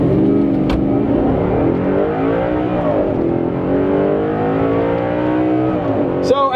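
A car accelerates in manual mode with the engine rising steadily and shifting slowly through a continuous loud drone, heard from inside the cabin, with a brief click near the end.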